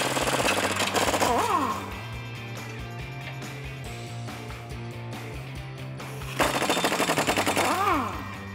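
An impact wrench loosens U-bolt nuts on the axle of a 2009-2014 Ford F150, firing two loud rattling bursts at the start and end with a quieter hum between.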